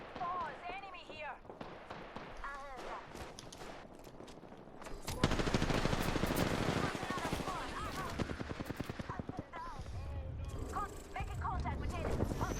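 Rapid bursts of automatic gunfire from Apex Legends crackle in dense volleys, with bright single shots and sustained rattling runs, under spoken voices throughout.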